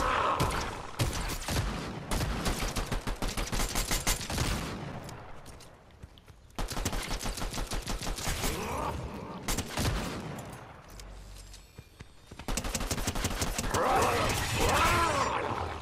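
Bursts of rapid automatic gunfire from a partner in Fortnite Chapter 5 Season 3 Zero Builds, coming in three long volleys separated by quieter gaps with game sounds.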